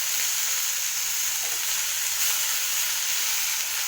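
Fenugreek leaves and chillies frying in hot oil, giving a steady, loud sizzle that holds evenly throughout with no voices.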